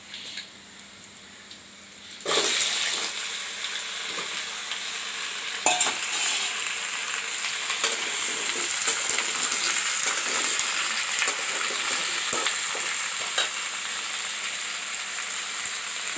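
Red pumpkin tipped into a pan of browned onions: a short quiet stretch, then an abrupt burst of loud sizzling that carries on steadily, with occasional spatula scrapes and knocks.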